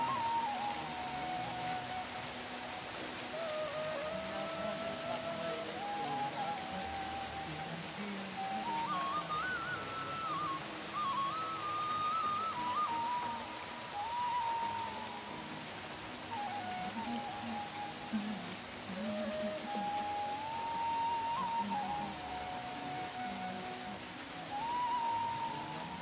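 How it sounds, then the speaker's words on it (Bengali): Monsoon rain falls steadily as an even, dense hiss of drops on surfaces, with a faint wavering whistle-like tone drifting above it throughout. "বৃষ্টি আরো জোরে দরকার, আরো জোরে, তবেই তো স্নান করে মজা বৃষ্টির জলে।"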